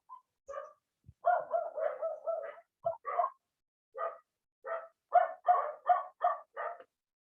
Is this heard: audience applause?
no